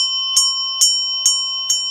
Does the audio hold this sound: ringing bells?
yes